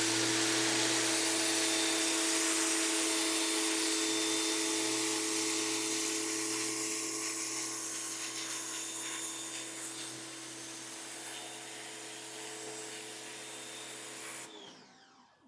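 Westinghouse pressure washer spraying through a turbo nozzle, a loud steady high-pressure hiss over a humming motor drone that fades slightly before cutting off at the end.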